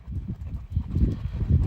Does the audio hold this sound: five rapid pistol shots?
no